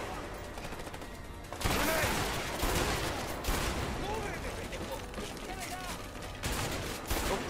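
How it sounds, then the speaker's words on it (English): Shotgun blasts in A Way Out erupt as several loud, heavy bursts amid chaotic firefight noise, with sharp onsets spaced a second or two apart. "That shotgun shall work in wonders."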